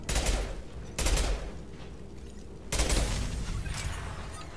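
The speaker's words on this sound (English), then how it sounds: "Let's see how far the explosion is." Explosive container blowing up in Mass Effect 2, sounding as three loud, broadband booming blasts with rumbling decay between them, close and unaccompanied by talk.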